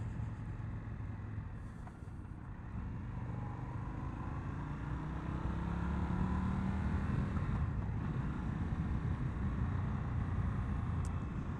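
A 2022 Indian FTR R Carbon motorcycle cruises in third gear in standard mode, its engine a steady low drone mixed with wind rush that rises slightly in loudness partway through, with no talking.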